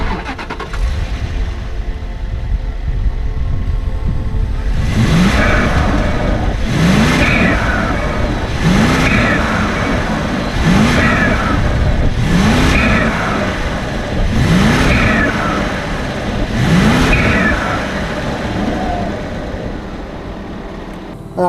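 A Bentley Mulsanne's hand-built 6.75-liter twin-turbo engine revs in a series of about seven evenly spaced throttle blips, each rising and falling over a steady, loud idle rumble close by.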